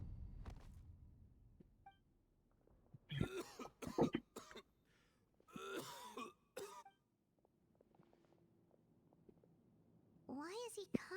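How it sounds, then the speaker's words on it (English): A man coughs and clears his throat in a game cutscene, several harsh bursts spread through the clip with quiet gaps and a final fit near the end. "Why is he coughing so much?"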